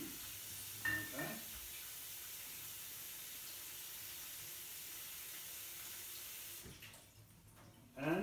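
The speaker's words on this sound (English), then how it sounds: "we can stick it underneath the cold tap" Cold tap water runs steadily from a faucet fed by alpine glacier water, a broad continuous hiss that fills the clip, with a few brief knocks near the start and the flow easing off toward the end.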